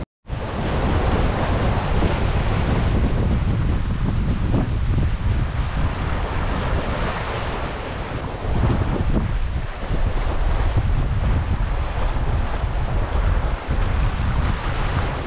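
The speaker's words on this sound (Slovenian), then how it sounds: "s to jakostjo vetra se tudi višina valov povečuje" Strong wind and rolling ocean waves surround a sailboat travelling near Gibraltar at sea: a loud, continuous rush of wind noise and surf with swelling surges, with no voices.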